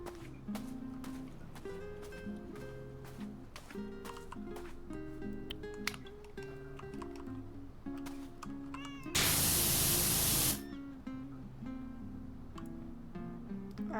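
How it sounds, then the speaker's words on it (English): A cat meows repeatedly inside the PowerWash Simulator video game, layered over steady game music, with a loud burst of pressure-washer spray hissing for about a second midway. "I still keep hearing a cat."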